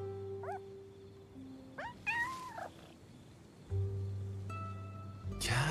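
Kitten meowing in an animated film, several short high mews and a rising cry spread across the scene over a low steady hum, ending in a brief burst of noise.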